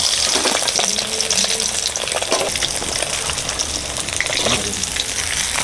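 Fish frying in oil in a pan, a dense, continuous close-up sizzle with scattered pops and spatters throughout, steady and loud.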